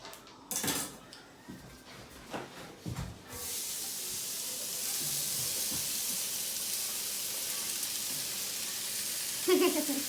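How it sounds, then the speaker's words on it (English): Ground beef fries in a pan with onion and carrots for a shepherd's pie. Utensils clink and scrape against the pan, then a steady, fairly quiet sizzle carries on with no one speaking. "we are going to cook the carrots and the onion with the ground beef until the ground beef is all browned up"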